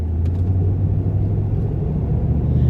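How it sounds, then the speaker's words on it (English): A police car disguised as a regular car, with a Snoopy on the back, drives alongside in traffic, giving a steady low road rumble and engine drone heard from inside a vehicle. "there's a police car next to me."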